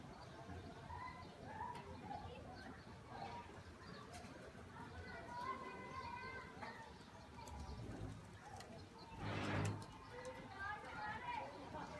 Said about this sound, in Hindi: ਇਹ ਵੀ ਸਾਡੇ फैसलाबादी जौंसिरे कबूतर ने।